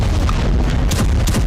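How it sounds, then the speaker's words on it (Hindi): A loud, rumbling missile blast in Tehran fills the moment with a heavy low roar and crackling noise. "ईरान की राजधानी तेहरान में रह रह कर धमाके हुए।"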